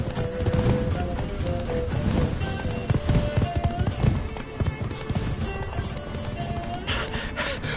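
Roach, the horse in the video game The Witcher 3, gallops with busy rhythmic hoofbeats amid dense game music and effects, loud and continuous.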